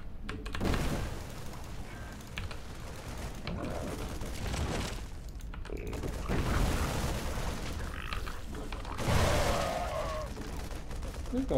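Battle in the video game StarCraft as a Zerg hive cluster comes under attack: dense bursts of gunfire-like fusillades, booms and mechanical clatter surging in waves, with a voice talking over parts of it.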